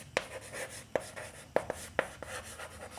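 Pen writing maths equations by hand on paper, soft scratchy strokes with a few sharp taps spaced across a few seconds, close and quiet.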